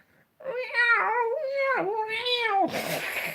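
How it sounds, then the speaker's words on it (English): A startled house cat lets out a loud, drawn-out wavering meow in several rising and falling swells, close by, ending in a short hiss-like rush of noise. "Scared the cat. I've scared the cat."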